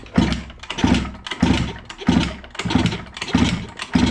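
Repeated rhythmic bursts of a small engine cranking, about seven evenly spaced pulses, as a Piaggio Liberty scooter that won't start is kicked over without settling into a steady run.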